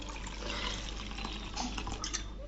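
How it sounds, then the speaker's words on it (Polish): Water pours steadily into a container with soft grey soap for mixing neem oil, a soft, continuous splashing rush, a few small drips and clinks near the end. "Dolewamy sobie wody"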